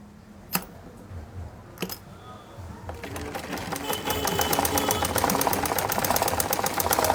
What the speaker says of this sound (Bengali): প্রথমে আমি একটা সেলাই দিলাম, এরপরে আমি আরও একটা সেলাই দেব।